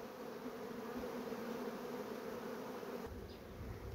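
Honeybees in an apiary colony hum in a dense, steady drone close by, a continuous buzzing swarm with no pauses, slightly thinning toward the end.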